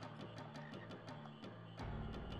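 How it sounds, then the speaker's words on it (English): Frogs croaking in the Final Fantasy IX frog-catching minigame, a regular rhythmic series of croaks repeating over a steady ambient music bed. "Give me the ability to catch frogs,"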